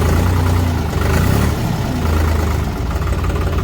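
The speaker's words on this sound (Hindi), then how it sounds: "देखो भाइयों आवाज़ सुनवाता हूँ ट्रैक्टर की।" A 50 HP New Holland 3630 Super Plus tractor engine idles close by with a low, steady diesel chug, loud and unbroken for the whole stretch.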